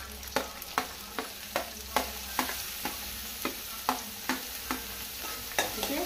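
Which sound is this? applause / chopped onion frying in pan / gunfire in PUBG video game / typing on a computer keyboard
chopped onion frying in pan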